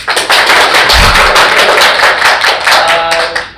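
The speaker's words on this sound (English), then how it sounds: "This is the part where you clap." Audience at a comics festival guest panel breaks into loud, close applause, many hands clapping in a dense, even patter that tapers off near the end.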